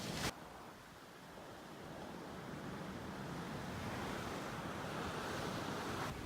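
Steady ocean surf washes continuously onto Woodlands beach in Montserrat, a broad rushing roar with some wind noise buffeting the microphone, holding at an even level with no voices.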